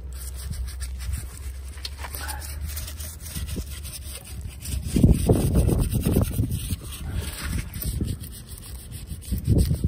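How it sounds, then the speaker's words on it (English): A part from a 5.3 Vortec engine is scrubbed with gasoline, producing rough, rhythmic rubbing strokes that start faint and grow louder and steadier in the second half, close to the listener. "Just a little scrubbing."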